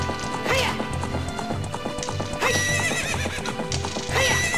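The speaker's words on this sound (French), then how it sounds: "j'appuyais sur A pour galoper" Horse hoofbeats clip-clop at a gallop with repeated whinnies and neighs in Zelda: Ocarina of Time, a loud, dense game soundtrack with tonal music running underneath.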